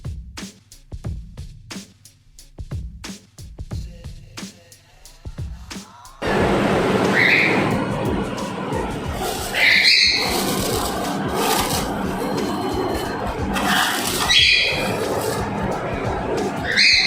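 Crispy homemade potato nimko (aloo ki sev) being crunched and handled, giving dense crackling bursts and a steady rustle that begin abruptly partway through, loud and close, after a stretch of quieter sounds.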